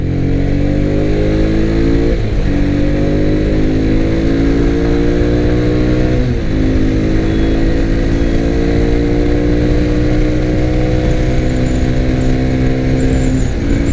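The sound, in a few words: Mahindra Mojo 300 ABS motorcycle accelerating for top speed run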